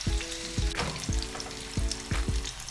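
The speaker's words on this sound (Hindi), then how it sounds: "चिकन जो है हमारी पक रही है और इसको लो फ्लेम पे पकाना है" Chicken pieces fry in a pan over a low flame with a loud, close, continuous crackling sizzle, broken by recurring bursts of sputtering.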